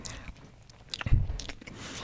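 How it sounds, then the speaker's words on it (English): A person chewing a bacon donut and corn dog up close, with a few soft wet bites and one louder crunchy burst in the middle of a short stretch of mouth noise. "I had to take the headphones off. The chewing."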